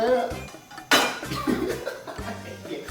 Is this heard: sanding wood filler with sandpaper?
no